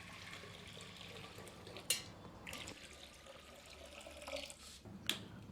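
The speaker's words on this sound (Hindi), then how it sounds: "अगले दिन इसका 3/4 हिस्सा पानी से भर देते हैं।" Water runs into a clay handi pot in a steady, soft pour with a few sharper splashes and clinks, heard close and alone without speech.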